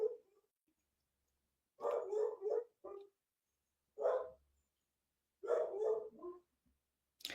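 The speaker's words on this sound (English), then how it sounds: "sorry for my dogs, if you hear them in the background." Several dogs barking in the background in separate bursts, with clear pauses between the volleys, fairly loud and alone with no talk over them.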